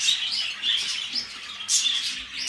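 Lovebirds in a home aviary room chirp continuously in bright, overlapping high tweets, several birds calling at once with sharper bursts near the end.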